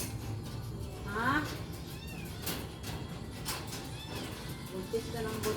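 A stray cat, a mother with kittens, meows several times in short rising calls, fairly faint and partly under someone talking nearby.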